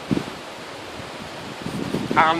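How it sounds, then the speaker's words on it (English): Wind gusting against a microphone outdoors beside a portable shelter made of polythene and a space blanket, a steady broadband rush that swells in bursts, with a brief voice near the end. "Everywhere I am, the wind wants to get in my face"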